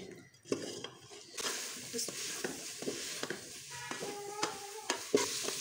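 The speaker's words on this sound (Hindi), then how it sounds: "गोभी को एक से दो मिनट के लिए यहाँ पे सब मसालों के साथ मैं भूनूँगी" Cauliflower frying with turmeric, cumin and other spices in a pan, a soft sizzle under repeated knocks and scrapes of a spoon against the pan, close by, with faint background voice.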